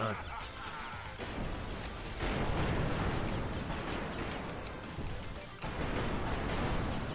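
Explosions in the Power Rangers Rita's Rewind video game give a loud, continuous barrage of booms and crashes, layered with repeated electronic game beeps and surging in waves.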